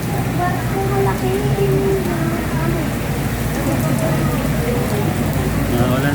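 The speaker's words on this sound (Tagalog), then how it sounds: "Naulan." Steady rain falling at Jones Bridge in Manila by the river where large ships pass, a dense continuous wash of drops over low city rumble, with faint voices murmuring underneath.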